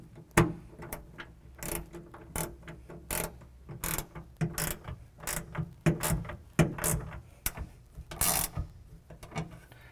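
A ratchet tightens the strike plate bolt on a Lazerlite tonneau cover on a 2014 Toyota Tundra, with rapid irregular clicking strokes and metallic rattles, close and steady throughout.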